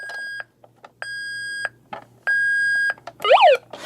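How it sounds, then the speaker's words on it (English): A toy rescue truck's backup alarm: three long electronic warning beeps repeat at a steady pace, followed by a quick rising-and-falling chirp, close and loud. "you can see we have a backup sound"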